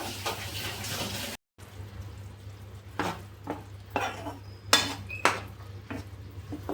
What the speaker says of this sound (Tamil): இறா பார்த்தீங்கன்னா அவங்க சிம்மில் தான் வச்சு ஃப்ரை பண்ணுறாங்க